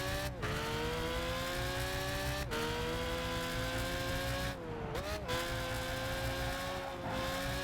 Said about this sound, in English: That was an interesting sound to make my car make.